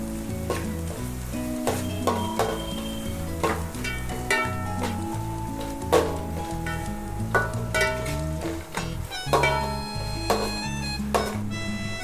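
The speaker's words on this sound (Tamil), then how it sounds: "ஸோ நம்ம நல்லா வதக்கிக்கலாம் வெங்காயத்தை." Onions and cashews sauté in a pan for restaurant-style paneer rice, a steady close sizzle broken by repeated stirring scrapes and clinks against the pan, heard over soft background music.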